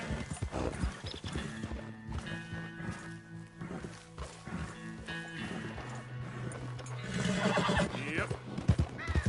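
A horse whinnies and neighs loudly up close while its hooves clop in an uneven rhythm, with scattered knocks and a few faint voices mixed in beneath the animal.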